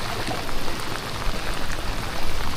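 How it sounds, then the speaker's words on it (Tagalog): Heavy rain pours steadily on a fishing boat at sea, a loud, dense hiss of drops hitting surfaces with no pauses and no voices. "Lakas ng ulan."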